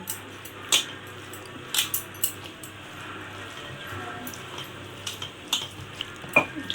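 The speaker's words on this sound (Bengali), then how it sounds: "গরম মশলার গুঁড়ো অল্প পেঁয়াজ কুচি টমেটো কুচি দিয়ে এখন এটাকে একটু ভালো করে মেখে নেব" Hands mixing a potato, onion and tomato batter with spices make soft squelching and scraping sounds, with intermittent sharp clicks and taps against the bowl, fairly quiet and close.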